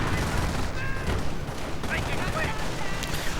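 Machine-gun fire rattles through a video game battle between riflemen, an anti-tank gun and a T-17, with a turret-mounted MG shooting. Dense overlapping bursts and explosions run throughout, and a voice talks over them.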